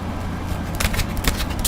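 Tarot cards being shuffled by hand, a steady papery riffling with several sharper bursts of card flutter toward the end, close and fairly loud with no talk.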